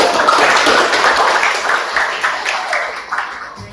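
Audience applause at a classroom teacher-training session, a steady wash of many hands clapping held at a fairly loud level throughout, tapering slightly toward the end.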